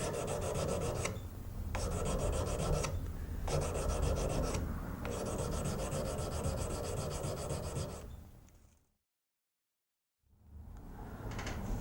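A knife blade is hand sanded with the last worn bit of a sanding strip: close, loud rasping strokes in steady rhythmic bursts with short pauses, then a brief silence before the scraping resumes. No one speaks.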